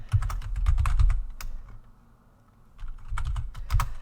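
Computer keyboard typing comes in two quick bursts of clattering keystrokes, close and fairly loud, with a short quiet pause between them.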